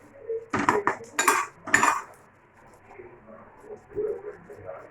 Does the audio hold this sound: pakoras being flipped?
yes